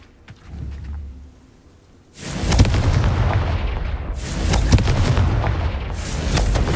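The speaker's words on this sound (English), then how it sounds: "Confringo." A Confringo fire spell from the Hogwarts Legacy video game bursts after a quiet lead-in, a loud booming blast followed by sustained rumbling, crackling explosions that keep roaring for several seconds.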